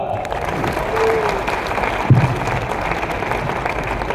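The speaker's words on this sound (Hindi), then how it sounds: "एक बार तालियां होनी चाहिए जोरदार।" Loud, sustained applause from an audience in a hall at a company stage event. It fills the whole stretch as a dense wash of clapping, with a brief voice near the middle.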